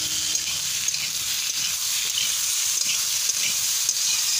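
Boiled potatoes hitting hot oil with cumin seeds in a kadai wok, giving a loud, continuous hissing sizzle with faint scraping from stirring.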